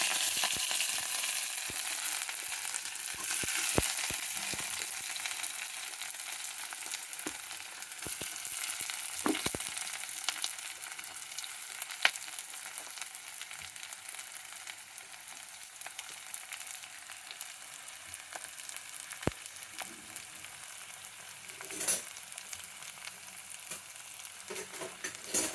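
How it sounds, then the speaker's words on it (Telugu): Green chillies and onions fry steadily in a pan for a capsicum and potato paneer curry, a continuous soft sizzle with occasional sharper crackles and utensil taps, no voices. "ఎర్రగా వేగించుకోవాలి. ఉల్లిపాయలు వేగనివ్వాలి అండి బాగా."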